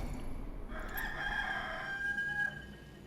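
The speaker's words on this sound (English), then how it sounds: "I could hear the rooster from Warcraft 3" A rooster crows in the video game Warcraft 3, one drawn-out cock-a-doodle-doo call, faint and distant beneath a steady game background hum.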